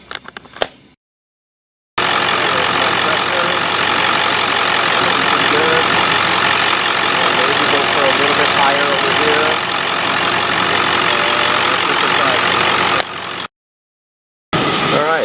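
A 2001 Ford Excursion engine idles steadily and loud at close range for about eleven seconds, a constant rumbling drone with a faint ticking, bracketed by brief silent gaps.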